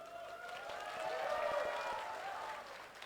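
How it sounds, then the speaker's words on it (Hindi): An audience applauds at a store grand opening in Korangi, Karachi, with a steady wash of clapping mixed with crowd voices and a few cheers. "तालियां बजाओ।"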